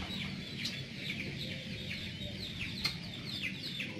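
Chickens cluck in a steady stream of short, repeated calls, moderately close and with no voices over them.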